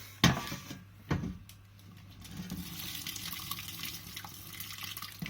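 Boiling water splashes and pours steadily into a vessel after a couple of sharp clunks, with a soft continuous trickle running throughout.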